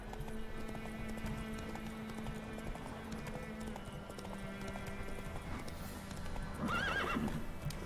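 Roach, a horse in The Witcher 3 video game, gallops with steady clip-clop hoofbeats over a constant in-game background, then lets out a loud, close whinny near the end.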